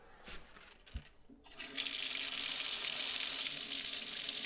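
Water starts running from a fountain at a site with a church and castle in Catalonia, a steady close rushing flow after a few quiet knocks.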